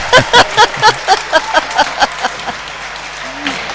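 A local crowd at the bowling world cup claps in quick, sharp bursts that thin out and fade over a few seconds, with commentators talking underneath.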